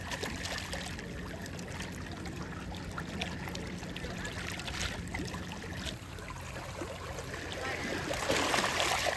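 Water laps and trickles gently in a harbour in Croatia near a pirate-style boat, a soft, continuous splashing close by with faint background bustle and no clear talk.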